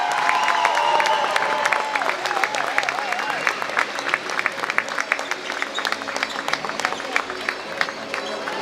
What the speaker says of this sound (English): a big round of applause for the